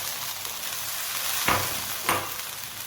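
A steady hiss of food sizzling in a hot pan as half a kilo of tomatoes goes in, with two brief clatters as something is stirred or dropped in.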